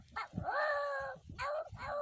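A voice imitates a poor dog howling and crying, drawn-out whining wails followed by shorter yelping cries, loud and close with no instruments.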